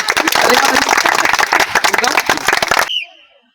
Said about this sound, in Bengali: সবাই তার জন্য জোরে করতালি দিবে।